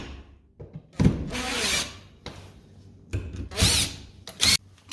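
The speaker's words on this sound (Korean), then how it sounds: "제가 지금 구멍을 뚫는데 이게 합판이 생각보다 얇았어요" A power drill bores holes into thin plywood on a wall while a washbasin is being installed, heard in several short close whining bursts, with quieter handling and scraping between them.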